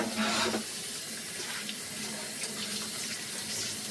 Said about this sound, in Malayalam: ഇനി നമുക്കൊന്ന് കഴുകി നോക്കാം